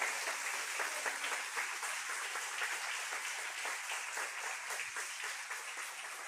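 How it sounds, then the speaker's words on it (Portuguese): A church congregation applauds Jesus in sustained, dense clapping that stays steady and even throughout, with no pauses or breaks in the sound. "Você pode aplaudir Jesus."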